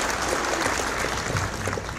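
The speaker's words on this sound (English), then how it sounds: "If we could give her a big round of applause before the show" Audience applause at a school winter concert, a steady wash of clapping filling the whole short stretch at moderate level, with faint low murmur beneath.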